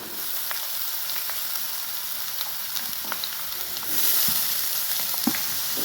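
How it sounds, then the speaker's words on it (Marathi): Onions and green chillies fry in oil in a pan, a steady close sizzle dotted with small pops and stirring clicks that swells louder near the end, no voices. "कांदा चांगला लाल होईपर्यंत आपल्याला भाजायचा आहे।"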